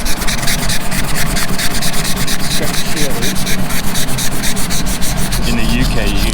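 A card scrapes frost off a car window on a cold winter morning, making a steady, loud, continuous rasping rub of repeated strokes, close by, with no talking.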